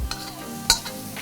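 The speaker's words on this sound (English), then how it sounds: "So let's throw that in there. And we've got some chive. So keep stirring." Brief stirring of rice and chive frying in oil in a pot, a soft sizzle carrying a single sharp utensil scrape against the pot midway, close and without voices.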